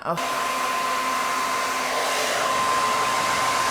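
A hair dryer blows steadily on curly hair that is still a little wet, a loud, even, close-up whir running unbroken for the full length before switching off at the very end.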